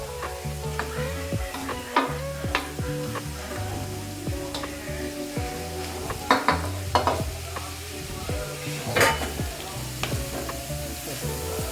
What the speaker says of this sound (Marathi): गाजरचा हलवा चांगला परतून घ्यायचा